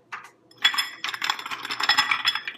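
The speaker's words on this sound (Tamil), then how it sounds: "இதோடவே ஐஸ் கியூப்ஸ் போடுறேன்" Ice cubes tumble into a vessel of water for pani puri, a short clattering burst of hard clinks and rattles, close and bright, after a brief first clink.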